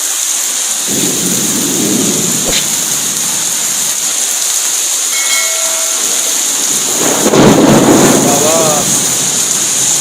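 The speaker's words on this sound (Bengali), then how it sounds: "প্রচণ্ড জোরে বৃষ্টি" Thunder rumbles twice over a dense wash of heavy rain, the later roll louder and closer, with rain hissing steadily throughout.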